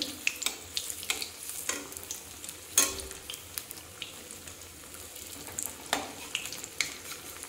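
Bread cheese pakoras fry in oil with a soft, fairly quiet sizzle broken by scattered crackles, spatters and clinks of a utensil.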